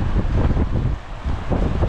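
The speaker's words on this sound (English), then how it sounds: "So it's really, really windy." Strong wind at Caleta de Fuste beach on Fuerteventura roars across the microphone in a dense, gusting rush that dips briefly midway before surging again, with no voices.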